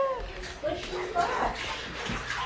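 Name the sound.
water running in a bathtub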